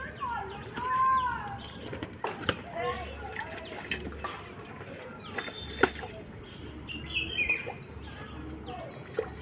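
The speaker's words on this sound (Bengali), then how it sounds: "সব পায়রা খেয়ে নিচ্ছে জল" Pigeons gather at water, with soft cooing, chirps and bursts of wing flapping at close range, while a person speaks and calls to them.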